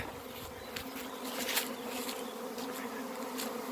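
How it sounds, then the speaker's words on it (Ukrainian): A honey bee swarm pours out of its hive, filling the air with a dense, continuous buzzing drone that holds steady and close throughout, with no voices. "Як втікають вони з вулика скоренько."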